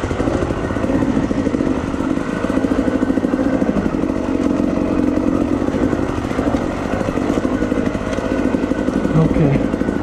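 Trail motorcycle with a broken throttle, its engine running steadily and loud, a rough continuous drone with clattering texture throughout, close to the rider.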